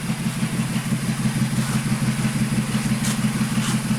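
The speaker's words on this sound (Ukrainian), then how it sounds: "Ну все одно рівніше двигун працює" A VW Polo 1.2 AZQ three-cylinder engine idling after a new timing belt kit, with one cylinder down on valves, giving a steady low throbbing hum with a slight uneven pulse and light clatter, close up.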